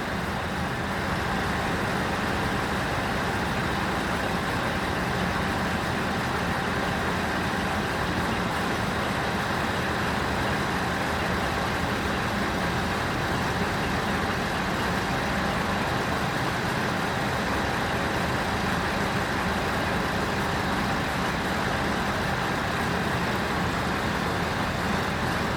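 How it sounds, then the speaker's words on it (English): Traffic jam during a fuel protest on a road near Mallow, County Cork: an unbroken, even drone of idling and slowly moving cars, trucks and buses that holds steady throughout. "Traffic jam."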